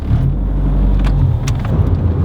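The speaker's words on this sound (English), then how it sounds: "inside the car I can actually hear the engine, and it sounds good" A car engine heard from inside the cabin while accelerating, a steady, close, low rumble that holds evenly throughout with no talking.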